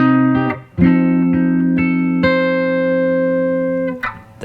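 Sustained electric guitar chords from a rock riff, a few struck notes ringing out with a bright distorted tone, played close and alone without speech.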